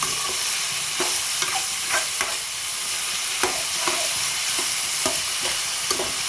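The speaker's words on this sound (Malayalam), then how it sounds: "ഇതൊന്ന് നല്ലവണ്ണം ഒന്ന് വാടി വഴന്ന് വരണം കേട്ടോ." Onions sauté for a Kerala-style chicken curry: a steady bright sizzle with regular scraping stirs of a spoon against the pan, close up and without talking.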